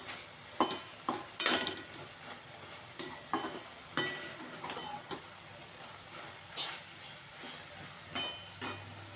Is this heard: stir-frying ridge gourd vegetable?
yes